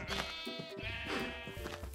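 Several sheep in Minecraft bleat in overlapping, wavering calls, close and clear, one after another without pause over a steady game background.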